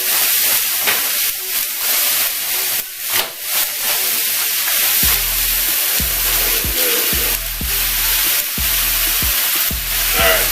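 Kale from a bag sizzles and steams in a hot pan as a steady hiss, broken by rhythmic low thumps of stirring or tossing over its second half.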